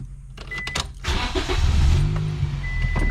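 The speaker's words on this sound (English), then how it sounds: "I'm gonna go ahead and start the car" A car engine cranks and catches at close range, settling into a steady idle with a low rumble; air conditioning is being diagnosed on this car.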